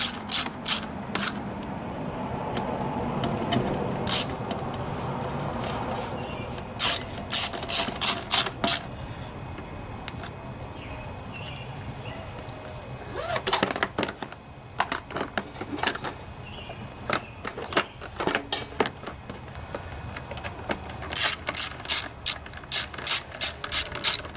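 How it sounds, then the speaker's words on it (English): A ratchet clicks in fast bursts while screws are tightened on a Briggs & Stratton 7.25 163cc lawnmower engine during a head gasket replacement. The runs of sharp, close pawl clicks are separated by quieter handling noise. "Tighten these 3 screws down."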